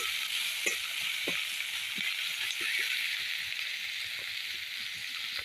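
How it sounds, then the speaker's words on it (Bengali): Onions frying in a pan sizzle steadily up close, with soft scraping and stirring taps from a utensil breaking in at intervals. "পেঁয়াজটা ভালো করে ভেজে নিতে হবে।"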